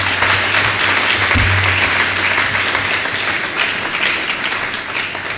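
A seminar audience applauds, dense sustained clapping from many hands at a steady level with a low electrical hum underneath, no voices.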